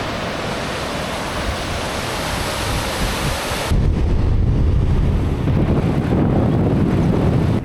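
The Vipava river running high after rain, a loud, constant broadband rush of flowing water heard close up, with its tone shifting to a deeper roar partway through.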